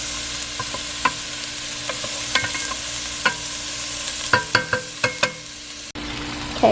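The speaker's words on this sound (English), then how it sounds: "Stir that up, let it brown and get fragrant." Jalapeños, onion and minced garlic sautéing in a pan, a low steady sizzle punctuated by a run of sharp spoon clicks and scrapes against the pan, close and clear with no talking.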